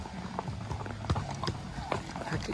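Hooves of a young horse named Casper clip-clopping at a brisk pace on an extreme horse and mule trail ride, a steady rhythmic patter under outdoor background noise.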